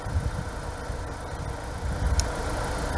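A BMW car engine idles steadily at close range, a low continuous rumble with a faint brief click partway through and no talking.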